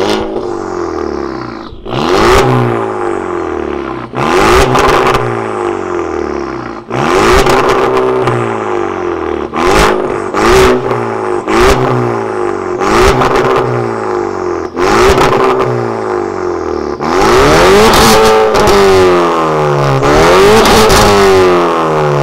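A VW Scirocco 1.6 with a Warex exhaust revs hard and close up, the engine climbing and dropping in about a dozen sharp bursts, with longer rising revs near the end and no voices.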